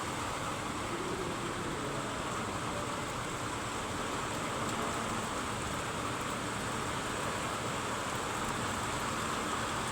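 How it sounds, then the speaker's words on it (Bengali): Heavy rain pours down without pause, a dense, even hiss that holds steady for the full stretch with no voices over it. "কত স্পিডে বৃষ্টি হইতেছে আজকে।"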